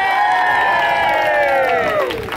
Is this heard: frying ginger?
no